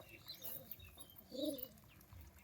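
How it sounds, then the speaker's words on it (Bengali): Andhra pigeons in a flock coo softly, with a few faint, low burbling calls and light chirps against quiet background noise, fairly distant. "সব আন্ধ্রা পায়রা তাই না"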